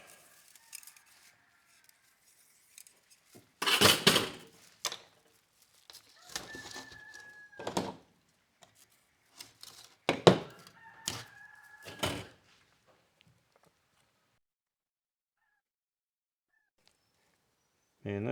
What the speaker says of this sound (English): Man, those roosters,